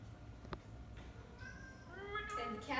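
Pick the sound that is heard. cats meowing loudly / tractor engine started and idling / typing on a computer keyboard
cats meowing loudly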